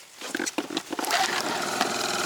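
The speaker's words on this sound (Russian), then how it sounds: "Запускаем мотор." An outboard boat motor on a fishing outing is pulled a few times, then catches and settles into a loud, steady running drone close by.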